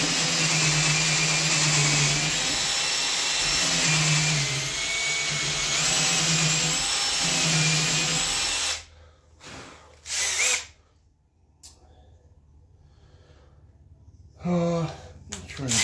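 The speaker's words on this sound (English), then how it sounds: "I'm trying to drill a couple of smaller holes around it." A power drill bores holes into white oak axe handle stock with a loud, sustained whine lasting about nine seconds, rising and dipping under load, followed by a few short bursts and quiet handling.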